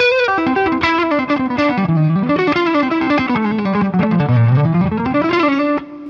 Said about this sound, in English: I'll do a slide here, which gives you like a major seven sound